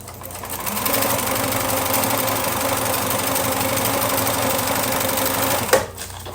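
A sewing machine runs steadily, stitching a quilt heart block a quarter inch from marked lines, one continuous loud whirring pass that stops abruptly near the end.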